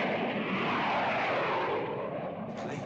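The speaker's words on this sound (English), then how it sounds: "Planes. How low they're flying." Low-flying airplanes roar overhead in a continuous, loud, broad engine rumble that swells and then slowly fades.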